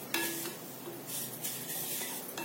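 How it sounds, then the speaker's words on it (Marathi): Vermicelli roasting in a pan over a low flame while it is stirred steadily, with soft sizzling and faint scraping of the stirring spoon against the pan, close and quiet, with no voices. "शेवया भाजून होत आहेत"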